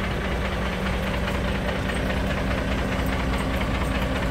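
An engine runs steadily with a rough, knocking mechanical clatter and some hiss. It holds at a constant loud level throughout, and nobody speaks.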